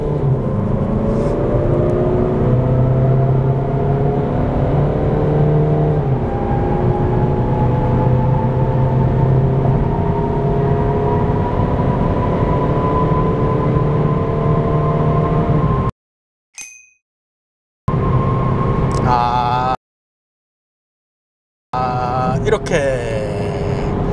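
A Peugeot 308 GT accelerates hard through a tunnel, its engine note climbing steadily as a loud, continuous drone with echoing road roar, then cut off by brief silent gaps near the end.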